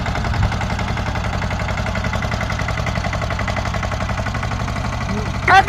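A tractor engine runs close by with a steady, loud, low chugging throb that holds even throughout, ending with a brief louder burst.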